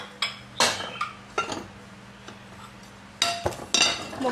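Large Japanese ceramic plates and dishes knock and clink together as they are handled, in a series of sharp, close clatters separated by short pauses, with no voices.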